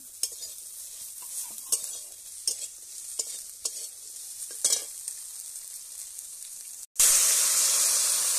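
Eggplant and fried prawns stirred together in hot oil for a sour tamarind dish, with a low crackling sizzle and repeated spatula scrapes, then a sudden loud, steady hiss near the end.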